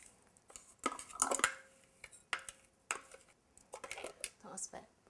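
A breadcrumb mixture for coating lamb is tipped into a bowl, making faint scattered clinks, scrapes and soft rustles in uneven bursts, with a voice heard at times.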